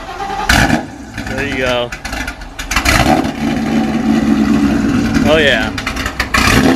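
Wide-body Shelby GT500 Mustang of about 1,200 hp, fitted with a Ford Racing axle-back exhaust, cranks and fires into a loud, close rumbling idle, with people talking and cheering over it.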